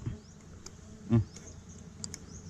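Stingless bees at an opened hive give a faint, steady insect drone with a few soft wingbeat flickers and one brief louder buzz near the middle, heard alone without voices.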